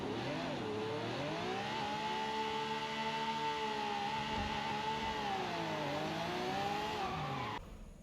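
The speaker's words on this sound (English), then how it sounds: "That's how you clutch slip. All right, here we go. That was it. You heard it, right?" Forza Horizon 5 car clutch-slipped in game: a steady, loud engine drone holds through the run, its pitch dipping and climbing with the revs and tire squeal, before cutting off near the end.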